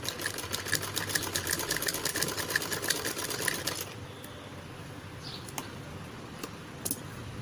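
A sewing machine stitching pleats on a blouse runs in a fast, steady, loud whir for about four seconds, then stops, leaving quiet room noise with a few faint clicks.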